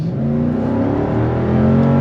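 A 2023 Lexus GX 460 SUV accelerates hard, its engine note climbing in a loud, steady, close-up rising drone with no talk over it.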